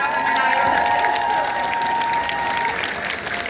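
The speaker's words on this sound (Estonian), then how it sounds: "Aga veel üks aplaus Vana Toomale ja siis saadame ta ilusasti" A crowd claps loudly and steadily for the Vana Toomas act at a Masked Singer fan-day concert in 2025, the dense applause fading slightly toward the end with no talk over it.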